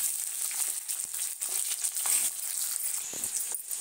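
Onion and capsicum fry in hot oil, giving a bright, steady sizzle and crackle with a few soft clinks and stirring knocks, fairly close.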